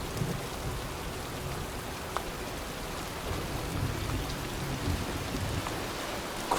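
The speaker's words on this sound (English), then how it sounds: "looks like a storm's coming" Rain in the video game Heavy Rain pours steadily as a constant, dense hiss of falling drops, with occasional faint crackles and a low rumble beneath.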